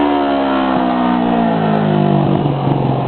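A Kawasaki Ninja 636 motorcycle accelerates hard nearby, its loud engine note climbing steadily in pitch through the revs before easing near the end, with no talking.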